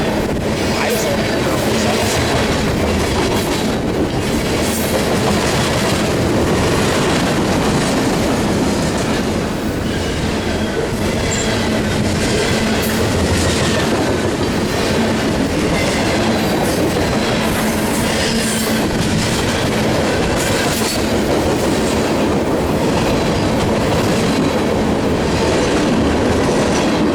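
A freight train with CSX and Norfolk Southern locomotives rolls past at Fullerton, loud and close, with continuous rumbling wheels, rhythmic clickety-clack over rail joints and occasional wheel squeal for nearly half a minute.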